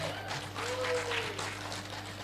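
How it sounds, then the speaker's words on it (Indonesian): Applause for the mothers in the audience at an Indonesian political talk, a moderate wash of clapping under faint voices and crowd murmur, fairly quiet and brief. "Tepuk tangan buat ibu-ibu."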